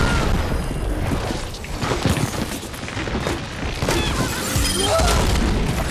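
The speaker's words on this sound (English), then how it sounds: "Turret was destroyed." A turret is destroyed in an Overwatch match, with booming explosion bursts, shattering crashes and scattered gunfire packed into a dense, loud stretch of combat noise.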